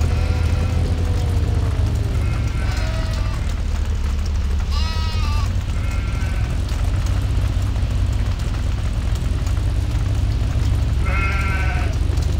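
Sheep bleating on a farm in a video game, several separate wavering calls scattered over a constant low engine rumble, moderately close.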